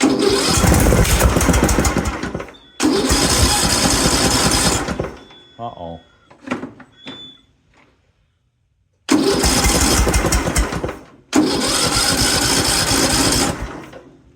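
A John Deere LA110 riding mower engine is cranked unchoked at full throttle: loud bursts of engine roar, a sputtering pause with clicks and near-silence, then two more loud runs, with a brief spoken exclamation in between.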